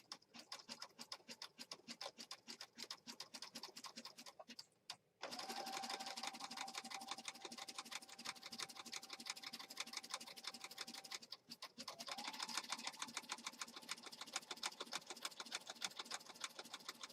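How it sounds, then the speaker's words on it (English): Sewing machine running a zigzag stitch during mixed media crafting, a fast ticking mechanical chatter in bursts, with two brief pauses before stitching resumes, fairly close and quiet. "I'm doing a zigzag stitch."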